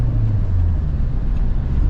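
Ford Tourneo Connect with a 1.8 engine driving on a wet road in rain, giving a loud steady low rumble with road and tyre noise blended in, constant throughout with no talk.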